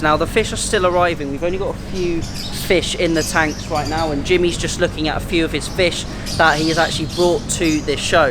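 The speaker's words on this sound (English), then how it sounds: "sorry about the birds in the background, they are a little bit noisy." Birds chirp and squawk throughout at a fish show with display tanks, the calls steady and fairly loud beneath someone talking close by.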